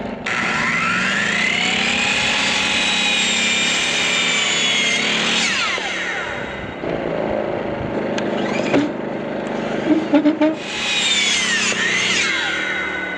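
Power tool cutting two boards at once along a template, a loud sustained whine with shifting pitch as the blade works through the wood, briefly easing and then surging again near the end.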